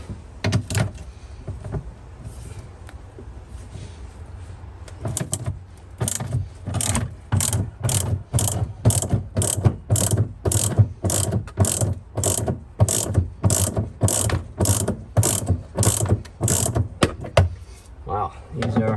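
A ratchet with a 15 mm socket and adapter undoing bolts on a 2004 Chevrolet Avalanche, sounding as a long run of evenly spaced loud clicks, near and rhythmic, sparse at first and then steady for many strokes.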